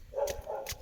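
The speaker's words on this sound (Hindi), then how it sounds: "कुत्ते भी भौंक रहे हैं" Two short, faint dog barks sound in quick succession at a distance, out on a farm field.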